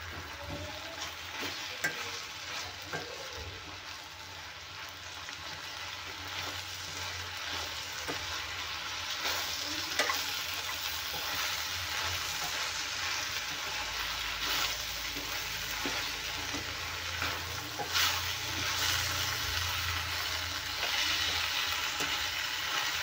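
Tomato-onion chutney fries and gets stirred in a pan, giving a steady, close sizzle that runs throughout with occasional scraping stirs and no talking.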